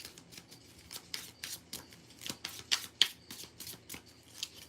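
Tarot cards being shuffled by hand before a card is drawn, giving a run of soft riffling and flicking bursts with a few sharper snaps, close and fairly quiet.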